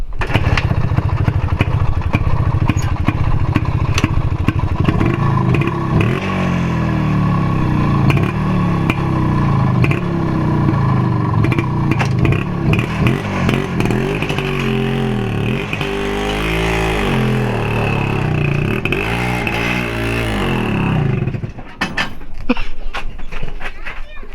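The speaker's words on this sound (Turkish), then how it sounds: "Motorumuzu çalıştıralım." A Planet 5 tractor engine cranks and starts, then runs with a loud, steady diesel chug and shifting revs, close by, over about twenty-four seconds with a brief dip near the end.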